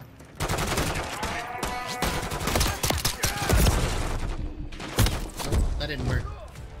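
Gunfire in the Modern Warfare 3 campaign, dense rapid bursts of shots and heavy thuds in a loud close firefight, steady throughout the clip.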